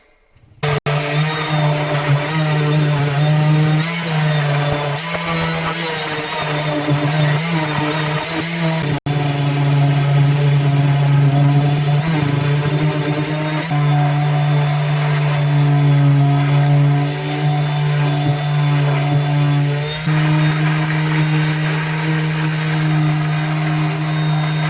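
A yellow power sander runs steadily and loudly throughout, giving a continuous motor whir with a strong low hum and no talk over it.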